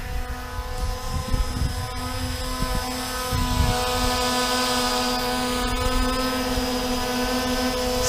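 A Holy Stone 700 drone carrying a GoPro camera flies close by, its propellers giving a steady, loud, high-pitched buzzing whine that holds on without a break.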